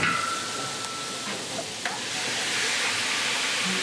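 Shelled crayfish sizzle loudly in a hot pan in a professional kitchen, a steady close hiss of frying with faint stirring clatter throughout.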